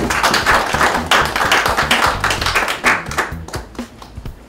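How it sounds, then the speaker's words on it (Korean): Audience applause for a speaker at a Mapo Forum lecture, a dense, steady crowd clapping that stays loud throughout with a few sharper individual claps standing out, no talking over it. "큰 격려의 박수 부탁드리겠습니다"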